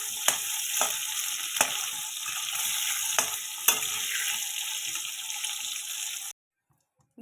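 Pieces of fish frying in a pan with salt and turmeric for a Bengali fish curry, giving a steady, close hiss and sizzle with a few stirring clicks, ending suddenly in silence.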